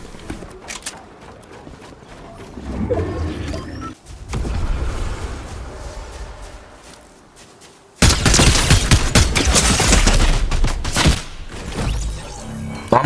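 Gunfire from a Fortnite Mobile fight: scattered shots early on, then dense, loud rapid bursts dominating the final seconds, mixed with game effects.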